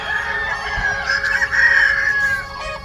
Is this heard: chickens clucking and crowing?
yes